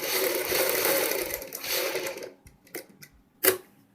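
Collar piping on a kurti is stitched in one steady burst from a close sewing machine, which stops midway. A few clicks and knocks from handling the fabric follow.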